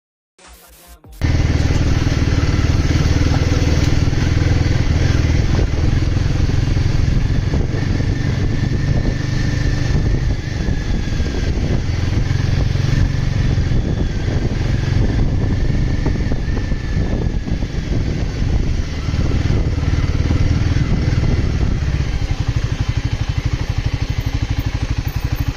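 Royal Enfield Guerrilla 450 motorcycle riding, its steady engine drone loud and continuous for the whole ride, with wind buffeting the microphone throughout and no talk.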